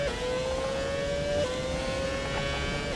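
Formula 1 race car engine in F1 2017 holding a steady high whine with a brief pitch step, smooth and continuous over low road rumble, no talk.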